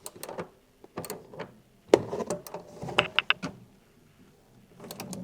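Tightening an 18 by 16 mm flange bolt with a 12 mm tool while installing a tow hitch harness on a 2025 Honda Pilot gives scattered metallic clicks, clanks and short rattles at close range, in uneven bursts.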